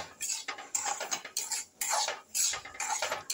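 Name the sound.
sautéing semolina (rava) in a pan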